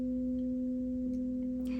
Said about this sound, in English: and the tones begin to play.